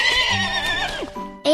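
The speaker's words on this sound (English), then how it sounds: "H is for horse." A horse neighs in a long, shrill, wavering whinny, close and loud, ending in a rising squeal.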